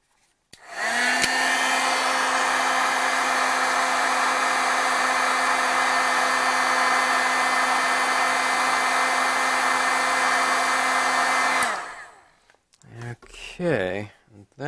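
A heat tool blows steadily and loudly for about ten seconds to set dye ink on matte paper for embossing, a constant whirring hum that stops abruptly before a voice speaks.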